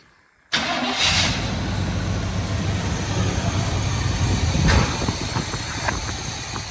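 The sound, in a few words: 1971 Chevrolet Suburban engine starting and running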